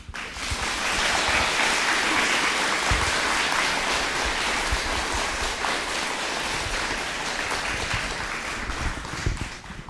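Sustained applause from a lecture audience honoring a bishop, dense steady clapping at close range that holds for about ten seconds without talk.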